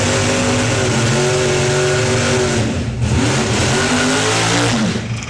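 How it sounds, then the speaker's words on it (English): Hot rods do loud, sustained burnouts at a drag racing event at Santa Pod Raceway, with engines revving hard and continuously up close and a brief dip in the roar midway. "I'm obviously not going to talk over the burnouts because nobody can hear me."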